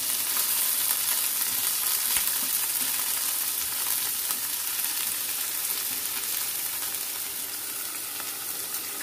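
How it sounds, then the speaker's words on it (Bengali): Boiled potatoes, thick-cut onions and green chillies fry in a pan with a continuous, even sizzle that holds steady throughout, close up and without talk. "আলু, পেঁয়াজ, কাঁচা লঙ্কা ভাজা, কতদিন বাদে যে করছি।"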